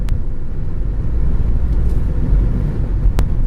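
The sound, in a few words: Toyota Corolla driving through a tight corner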